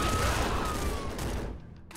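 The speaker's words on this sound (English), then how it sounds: "I'm just gonna fire a bunch of these down over that way." Bouncer plasma gun firing in the Nuclear Throne video game, a dense rapid volley of electronic blasts that fades out near the end, loud and alone.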